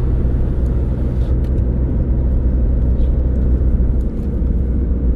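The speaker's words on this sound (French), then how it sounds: "Allez, on accélère et on met la quatrième." A car engine accelerating during a driving lesson as the driver shifts into fourth gear, a loud, steady low rumble that holds strong throughout with a brief dip near the end, close and heard from inside the car.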